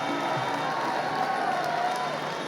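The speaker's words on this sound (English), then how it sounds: "Crowd are enjoying this one." A fight night crowd roars and cheers continuously at a combat sports event, a dense sustained wash of voices with scattered shouts, heard under a commentator.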